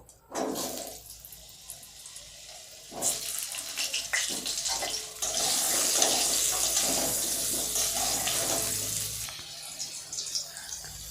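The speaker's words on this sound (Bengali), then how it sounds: "এরপর যে আলুগুলো আমি কেটে রেখেছিলাম সেগুলোকে আমি ভালো করে একটু ভেজে নেব" Cut potatoes drop into hot oil in a wok with a sudden loud rush, and a strong, bubbling sizzle continues close by for several seconds before easing slightly.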